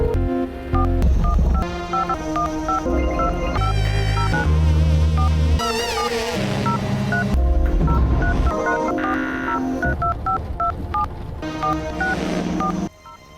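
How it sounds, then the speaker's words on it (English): Telephone keypad dialing tones in a video game, a long run of rhythmic beeps in quick sequences, loud and close, with other electronic game sounds mixed in. "An hour of dialing numbers."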